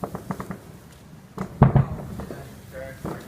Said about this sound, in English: You could hear all the fireworks in the background too.